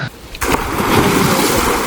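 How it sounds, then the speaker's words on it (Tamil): Fast-flowing stream water in forested hill country rushes in a loud, steady broadband wash that swells after a brief quieter start, with no talk over it. "தண்ணி எப்படி போகுதுன்னு பாருங்க, பயங்கர வேகமாக போகுது"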